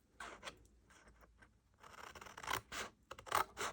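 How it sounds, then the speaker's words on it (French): Scissors snipping through paper along a fold line while making a small gift box, with a series of short, close, crisp cuts and scraping strokes that grow denser and louder toward the end, no voices. "avec notre paire de ciseaux, nous allons jusqu'à la deuxième marque de pli horizontale"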